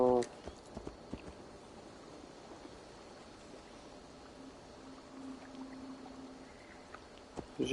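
Horse hooves clip-clop in Assassin's Creed Valhalla, a few scattered hoof strikes at moderate distance over a quiet ambient bed, with a voice speaking at the start and end.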